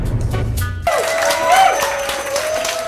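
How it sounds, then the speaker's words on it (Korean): Warm applause from the staff for the designer at the end of a fashion show, a sudden burst of steady clapping that carries on under music. "쇼를 만든 최고의 스태프들이 그녀에게 뜨거운 박수를 보냅니다"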